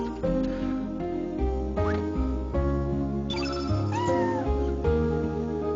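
A cat meows in the video game Chrono Cross, several drawn-out, wavering cries heard loud and close over steady game music.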